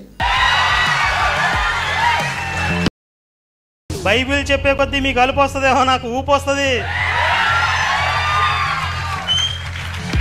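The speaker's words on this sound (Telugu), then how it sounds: "వాడి ఫాలోవర్స్, వాడి తిక్కల అభిమానులు చప్పట్ల మీద చప్పట్లు కొట్టారు, కొంతమంది ఖేరితలు కొట్టారు" A crowd of a preacher's followers claps and cheers loudly in a replayed recording, with whoops rising over the applause at the start and end while someone speaks forcefully in between.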